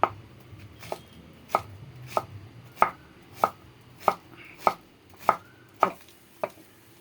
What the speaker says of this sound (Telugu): ఇది అరటికాయ వేపుడు మళ్ళీ చిన్న చిన్న ముక్కలు కట్ చేసుకోవాలి.